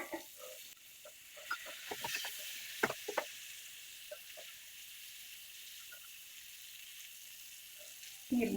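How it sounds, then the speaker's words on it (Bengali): Spices sizzle faintly in a pan for a Bengali prawn and pumpkin curry, with soft scattered crackles and stirring scrapes in a quiet home kitchen, and a louder clatter at the very end. "এখন এগুলোকে আমি একটু ভাজা ভাজা করব"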